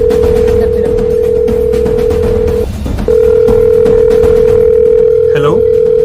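A steady telephone call tone plays loud over a speakerphone, cutting off briefly midway before resuming, with a short burst of speech near the end.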